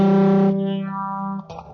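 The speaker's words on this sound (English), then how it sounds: "Here comes the phaser" A single sustained electric guitar note through a phaser pedal with a swirling, sweeping effect, loud at first and then fading, ending with a brief pick noise.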